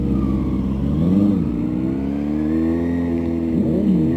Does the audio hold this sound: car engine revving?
yes